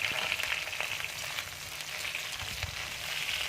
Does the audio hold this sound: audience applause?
no